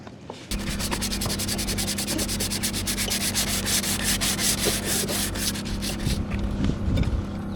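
Someone sands the wooden handrail and trim of a sailboat, producing a continuous, close, loud scrubbing with a rapid back-and-forth rhythm that starts abruptly and keeps going.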